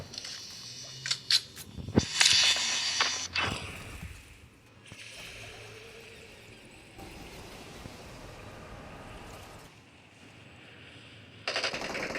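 Rapid automatic gunfire from the mobile battle royale game PUBG Mobile, several sharp bursts clustered early, then a quieter stretch of ambient game noise, with another loud burst near the end.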